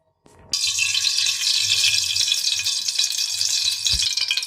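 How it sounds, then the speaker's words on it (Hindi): Ghee frying masala in a kadai for dhaba-style maash dal, a loud steady sizzle that bursts in after a brief quiet start and holds throughout, with faint low rumbles and a few scrapes and clinks. "अब हम कढ़ाई में घी डाल के इसका मसाला फ्राई करेंगे।"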